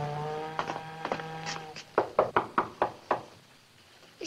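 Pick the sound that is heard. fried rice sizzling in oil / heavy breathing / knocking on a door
knocking on a door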